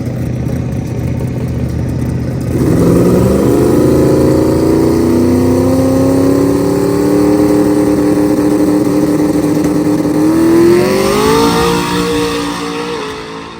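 A race car on race day launches off a two-step rev limiter after a brief idle, its engine roaring loudly and climbing through revs as it pulls away, then fading slightly at the end; no talking.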